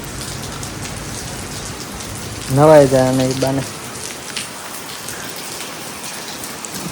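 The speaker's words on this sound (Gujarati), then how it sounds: "બહુ વરસાદ વધી ગયો હતો." Heavy rain pours down in a steady, dense hiss throughout, and a voice speaks briefly over it near the middle.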